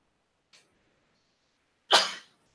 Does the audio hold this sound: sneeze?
yes